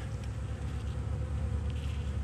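Honey bees hum and buzz in a steady low drone around an open hive with a queen cage nearby, a close, continuous swarm sound with no talking.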